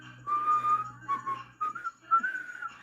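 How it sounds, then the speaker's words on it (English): Someone whistles a short, wandering tune close by, a few clear pure notes with small pauses between phrases. "Charlie Brown walks home whistling."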